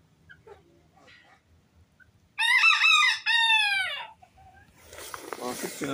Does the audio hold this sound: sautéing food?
no